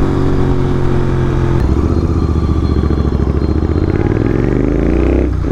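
A GT motorcycle rides through city traffic on the road to Rameshwaram Cafe, its engine droning loud and close with a steady harmonic hum that shifts in pitch as the throttle changes.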